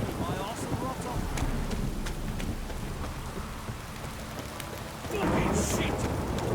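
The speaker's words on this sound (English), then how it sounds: "Don't stop raining, my arse will rot off." Steady rain pours in The Witcher 3 Wild Hunt, with low rumbling thunder rolling underneath and a louder surge of downpour near the end; no talk over it.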